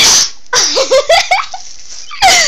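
A small, throaty cough-like vocal sound from a character in Halo 2 gameplay, with a sharp noisy burst at the start and end and short voiced grunts between them.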